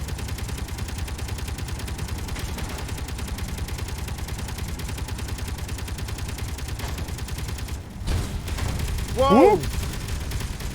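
Rapid, steady bursts of video game gunfire rattle on throughout, fairly loud, while a voice exclaims briefly over it near the end.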